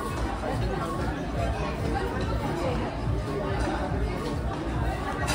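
A large crowd of guests chattering at a Marathi wedding resort in Nagpur, a dense, steady babble of many voices, loud and close throughout, with no single voice standing out.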